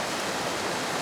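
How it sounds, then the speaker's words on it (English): A creek running high after recent rain, with a dense, steady rush of flowing water close by, continuous and even, with no talk. "We've had a lot of rain recently, so the water's here in the creek"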